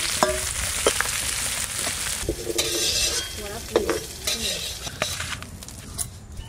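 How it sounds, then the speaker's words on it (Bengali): Cauliflower pieces fry in oil in a pan, a continuous sizzling hiss broken by scraping stirs and a few utensil clinks, near and moderately loud without speech. "ফুলকপি ভালো করে ভাজা হয়ে গেছে"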